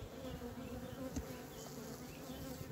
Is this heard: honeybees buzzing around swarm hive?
yes